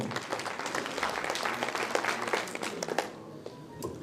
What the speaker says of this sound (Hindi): इनके लिए भी एक बार जोरदार तालियां